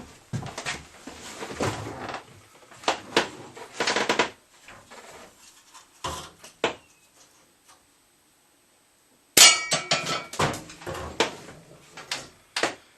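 Air pistol pellets strike a steel can during indoor plinking, producing sharp, close clicks and metallic taps in irregular bursts, with a quiet pause midway before a dense cluster of impacts resumes.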